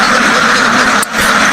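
Khaki Campbell ducks at a duck farm keep up a dense, steady chorus of quacking close by, with a brief dip near the end before the flock noise resumes.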